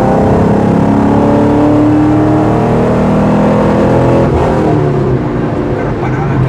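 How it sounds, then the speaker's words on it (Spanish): A 2010 Camaro SS V8 revs hard, its loud, steady exhaust drone holding close and strong with a slight rise in pitch, then shifting tone partway through. "Vamos a acelerar un poquito más para que puedan escucharlo"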